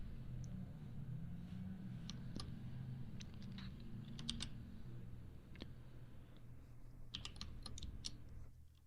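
A computer keyboard clatters with scattered keystrokes and short bursts of tapping over a steady low background hum, the clicks fairly faint and irregular, with a denser flurry near the end.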